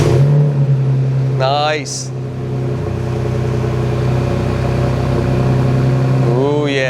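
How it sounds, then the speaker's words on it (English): A 2021 Ford Bronco's dual-tip AWE catback exhaust rumbles at a deep idle, rising in two quick revs with a brief spoken remark between them. "the all-new AWE Catback exhaust system, 2021 and up Bronco, dual tip. Let's have a listen."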